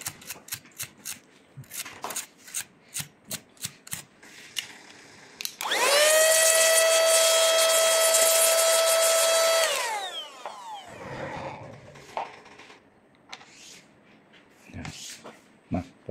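A blower runs steadily for about four seconds while cleaning a dirty HP laptop hinge during repair, its loud whine starting and cutting off between bursts of sharp brushing and tapping.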